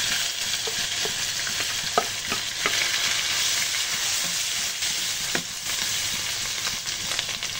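Steady oil sizzle with scattered scrapes and stirring clatter from a spatula, close and continuous, as dried chilies and bird's eye chilies fry with fried shallots and garlic in a hot pan.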